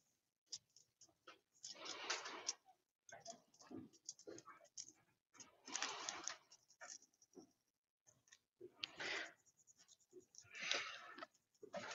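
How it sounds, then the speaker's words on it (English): A tool scratches and scrapes across aluminum foil while someone sketches a design on it, in short close bursts separated by pauses. "you can pretty much just draw your whole sketch on here."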